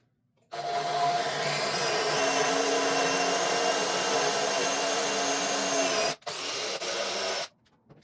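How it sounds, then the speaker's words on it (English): A power drill bores holes through the side pieces of a wooden workbench frame for a pivot pipe, one loud, steady, close whine lasting about six seconds, a brief dip, then a short final burst before stopping. "drill a hole through each side piece for the pivot pipe"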